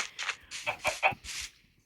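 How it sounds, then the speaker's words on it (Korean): A video game chicken clucks in a quick run of four or five short, bright clucks, close and clear with no talk over them. "닭은 못 참지. 무조건 비상식량으로 챙겨놔야겠다."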